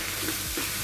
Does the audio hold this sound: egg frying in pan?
yes